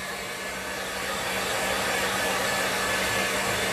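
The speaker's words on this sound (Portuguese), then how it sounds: "Ou você espera secar, ou você vai assim, ó, com o soprador, o secador e seca" A hair dryer blows continuously to dry decoupage glue on a set of craft boxes, a loud, steady whooshing hum running without a break from start to finish.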